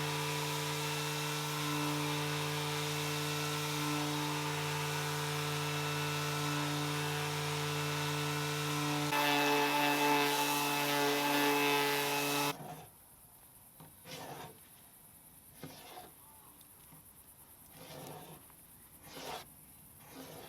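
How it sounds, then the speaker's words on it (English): A power sander runs on a Lane cedar chest painted brown to look like wood, giving a loud, steady motor hum with a whine for about twelve seconds. It then cuts off, leaving quiet room tone with scattered soft scrapes and handling noises. "sanding back the whole thing."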